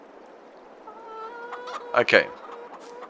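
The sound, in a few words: chicken clucking in a video game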